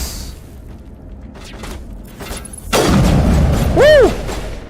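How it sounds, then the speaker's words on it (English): Rockets in the video game Mass Effect strike with a heavy, rumbling blast after a few softer thumps and whooshes, followed by a rising-and-falling synthetic whine as the explosion fades. "That's the reason I died. Rockets."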